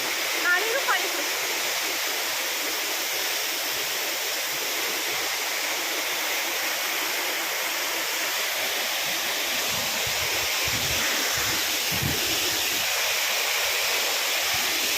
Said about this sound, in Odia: ଏଡ଼ିକି ନାଳିଟେ ଆସୁଛି, ନାଳିରୁ ପାଣି ଖସୁଛି।